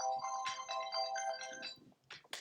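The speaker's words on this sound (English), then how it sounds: "Sorry, that was my phone." A mobile phone ringtone plays a bright, tonal melodic phrase for about two seconds, fairly quiet and close, before cutting off, followed by a brief sharp noise.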